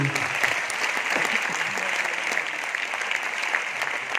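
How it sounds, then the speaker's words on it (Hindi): A crowd at a company anniversary celebration breaks into steady, dense applause, a continuous even roar of many hands clapping with no gaps. "जोरदार ताली होने के लिए"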